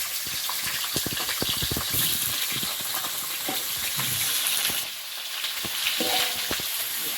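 Potatoes go into a pan where puti fish are frying, giving a loud, close sizzle with a gushing burst, stirring scrapes, and a brief dip in the hiss before the frying surges back.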